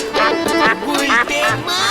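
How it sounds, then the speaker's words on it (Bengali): A pet duck quacking in a repeated series of nasal calls, close and fairly loud, with voices speaking around the calls in a comedic village scene. "এই নে তোর হাঁস।"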